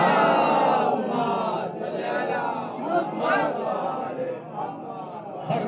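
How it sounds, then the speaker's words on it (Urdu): At an Ashra-e-Muharram majlis, a crowd loudly chants salawat in unison, a dense mass of voices surging and easing in waves. "بابا سے بلند نعرے صلوات۔"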